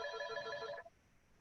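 A telephone rings in a meeting room with harmonic electronic trills for about eight-tenths of a second, then cuts off, leaving faint room noise.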